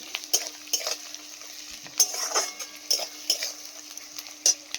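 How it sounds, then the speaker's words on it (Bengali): Onions frying in a pan during Sunday chicken cooking, with sharp repeated clinks and scrapes of a utensil stirring over a steady sizzle, fairly close and moderately quiet. "তো পেঁয়াজ ভাজতে দিয়েছি"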